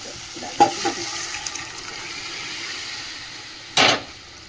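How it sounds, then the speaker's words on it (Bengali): Lentils tipped into a pan of spice masala fried in oil, a sharp sizzle burst near the start, then a steady soft fry with stirring, and a second loud sizzling burst near the end. "তেলে ছেড়ে গেছে, এবারে ডালটা দিয়ে দেবো।"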